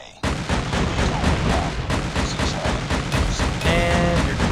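A called-in VTOL aircraft in Call of Duty Mobile on the Standoff map at night pours down dense, continuous heavy fire, loud booming shots blending into a steady barrage for several seconds.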